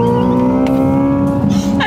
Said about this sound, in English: I was not ready for you to hit the gas.